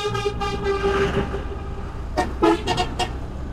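Vehicle horns honk in hot city traffic, a long steady toot over the first second and a half, then several short sharp blasts near the end, all over a constant rumble of engines and street noise.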